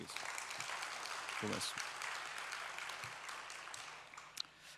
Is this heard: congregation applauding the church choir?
yes